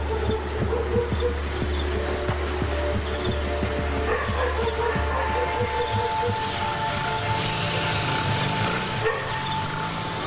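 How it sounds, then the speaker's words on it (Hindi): Several village dogs bark in scattered bursts within a documentary scene in the Gir forest region, set against a steady low rumbling hum and a faint tonal whine, with no talking. "कुत्ते खतरा भांपकर इकट्ठे तो हुए हैं"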